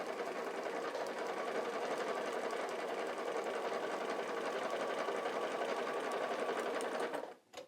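A sewing machine stitches a half-square triangle quilting seam, a fast, even mechanical whir that runs steadily for several seconds close by, then stops abruptly.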